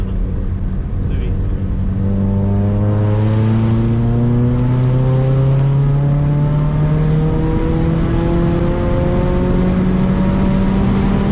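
A Mustang EcoBoost engine roars up close as it accelerates hard, its pitch climbing steadily and staying loud the whole time.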